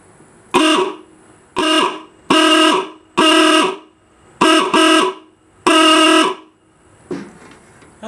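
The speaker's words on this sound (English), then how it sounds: "what does that horn sound like?" A dune buggy horn gives a series of loud, near, harmonic blasts, seven honks of varying length with short gaps between them, sounding alone.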